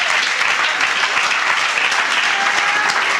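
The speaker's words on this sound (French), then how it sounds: "Let us clap for Jesus." A church congregation clapping for Jesus, dense sustained applause close by, loud and unbroken throughout.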